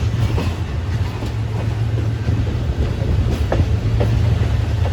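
Khushal Khan Khattak Express passenger train running on rails, a continuous low rumble with occasional faint wheel clicks, heard from on board at a steady level without talking.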